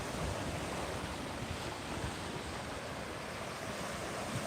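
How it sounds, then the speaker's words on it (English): Ocean surf rolling onto the beach at Clearwater, Florida, a dense, steady wash of breaking waves with some wind rumble against the microphone, continuous and fairly loud, with no voices. "Just the sound of the ocean"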